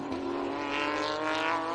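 A sports sedan race car passing on a Sydney circuit's main straight, a sustained high engine note with steady harmonics, moderately loud and at some distance.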